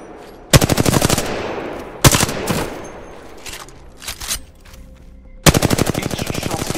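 Rapid automatic gunfire rings out in Apex Legends training mode, arriving in three loud sustained bursts split by pauses with fainter clatter and movement between them.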